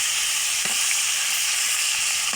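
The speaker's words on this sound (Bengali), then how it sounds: "মাছটা একটু বেশি ভেজে নেব।" Close, continuous sizzle of fish frying in a pan heated by a cow-dung-cake fire; the hiss stays even throughout, with a couple of soft stirring knocks.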